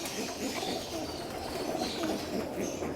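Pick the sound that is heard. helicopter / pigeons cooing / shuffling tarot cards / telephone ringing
pigeons cooing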